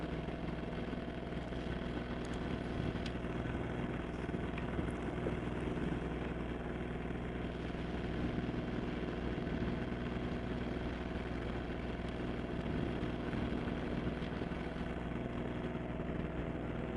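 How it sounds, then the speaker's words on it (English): A single-handed sailboat motors under engine power toward a harbour near Rügen in north-east Germany, with a steady, low, continuous engine drone that stays even throughout and no talking. "Just motoring around to the harbour around here to find a place to anchor."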